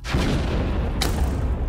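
Gunfire in a Minecraft bomb-drop capture-the-flag match, a dense rumbling barrage of blasts that stays loud throughout, with sharper cracks standing out around the middle and at the end.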